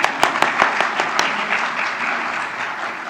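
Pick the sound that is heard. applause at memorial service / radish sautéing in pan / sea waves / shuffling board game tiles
applause at memorial service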